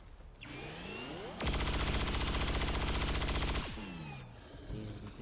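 In the video game XCOM 2: War of the Chosen with mods, a loud, sustained rapid-fire gun burst rattles for about two seconds, framed before and after by sweeping electronic game tones.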